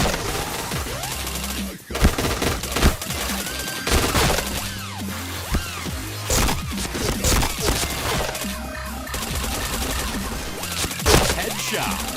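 Automatic gunfire fills a shooter video game match in loud, dense bursts, with rapid rattling shots and sharper single cracks repeating throughout, and a voice occasionally speaks underneath.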